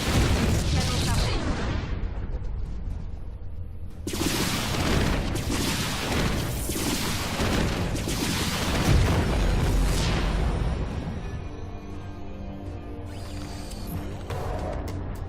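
Booming cannon blasts and heavy gunfire-like bursts from a StarCraft II battle, dense and loud, easing into quieter mechanical tones toward the end.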